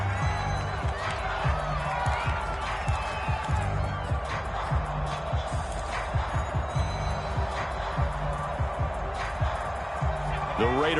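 A stadium crowd in a football video game, Raiders against Bengals, keeps up a steady roar throughout while a commentator talks over it.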